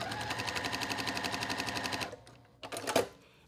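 A sewing machine stitches fabric in a quick, even run of close mechanical ticks, then stops, followed by a few softer clicks and a brief handling clatter.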